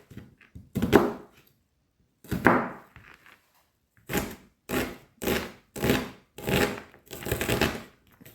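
A knife chops an onion on a cutting board: a few scattered cuts, a pause, then a quick regular run of firm, close knocks on the board, with no talking.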